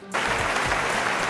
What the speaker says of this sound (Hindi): अपने लिए तालियां बजा दें।